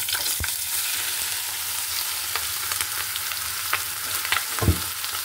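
Chicken meat sizzling in a little oil in a pan, a steady frying hiss broken by a few sharp stirring scrapes and clacks.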